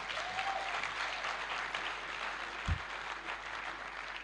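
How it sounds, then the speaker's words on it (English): Applause from an audience at a convocation lecture, a steady broadband patter of many hands that holds at moderate level throughout, with a brief low thump partway through. "I think he deserves a big round of applause"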